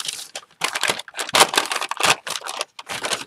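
Crinkling, rustling paper bag as an object is pushed inside it, in a series of irregular loud crackly bursts separated by short pauses.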